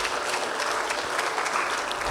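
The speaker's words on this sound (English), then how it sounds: "can we still give him a round of applause?" Steady audience applause at a debate championship grand finale and awards ceremony, a dense wash of clapping heard alone for a couple of seconds.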